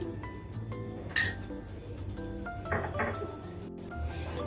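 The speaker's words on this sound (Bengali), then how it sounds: "এখন আমি ভালো করে মিশিয়ে নিচ্ছি" A spoon clinks against a bowl while spices are mixed, a few bright taps and scrapes, one sharper knock standing out, over a low hum with no voices.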